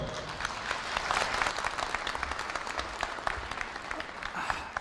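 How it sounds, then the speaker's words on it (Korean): Warm applause from a graduation ceremony audience at Korea University welcoming a speaker to the stage, dense and sustained clapping from a large crowd throughout, loud and even. "여러분, 정세균 선배를 뜨거운 박수로 환영해 주십시오."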